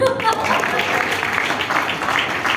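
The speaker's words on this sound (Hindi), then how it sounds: "बजा दीजिए ताली" An audience at a political talk event claps in a steady wash of applause that carries loud and even from start to end, with a voice heard briefly at the start.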